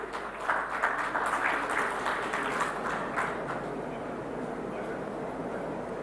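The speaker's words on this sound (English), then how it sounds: "A big round of applause," Audience clapping at an MOU exchange during a maritime expo in a large exhibition hall, swelling early then fading to a softer, thinning patter over a low steady room rumble.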